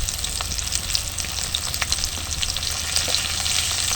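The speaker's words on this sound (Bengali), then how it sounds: "এবার আমরা আলুগুলো একটু ভেজে নেব। আলুগুলো দিয়ে দেবো তেলের মধ্যে।" Potato pieces fry in hot oil with turmeric being added, giving a steady, close sizzle with bubbling crackles and the occasional stir, loud and continuous.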